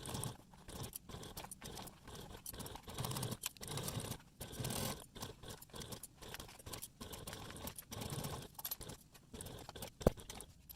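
A sewing machine stitches a gusset seam on a crossbody bag at a quarter-inch seam allowance, running in steady bursts of rapid mechanical clatter separated by brief pauses, close up with no talking.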